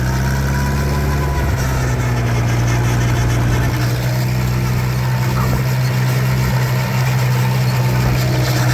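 Farmall 504 tractor raking hay in second gear with a side delivery rake, a loud steady engine drone with a strong low hum, close by and continuous.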